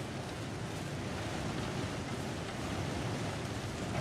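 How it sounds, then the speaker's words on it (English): Steady broadband rush of a waterfall in the snowy wilderness of The Long Dark video game, a constant full roar with no breaks and no voices over it. "I hear a waterfall."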